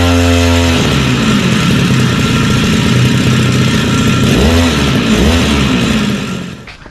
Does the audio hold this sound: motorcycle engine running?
yes